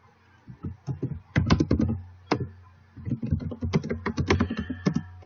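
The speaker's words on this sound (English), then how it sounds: "and we'll begin typing" Rapid typing on a computer keyboard in irregular bursts of clicks with brief pauses between runs, close and clear, with no talking.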